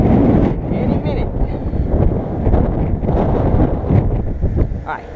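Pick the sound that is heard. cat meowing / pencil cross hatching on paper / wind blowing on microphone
wind blowing on microphone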